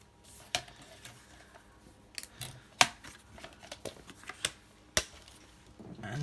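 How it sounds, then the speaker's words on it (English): Scissors trim excess white paper from a decorated journal cover, giving several sharp, close snips at uneven intervals with faint rustling between cuts. "this will need trimming down because there's an excess of white at the top there, so we'll just trim a bit off that"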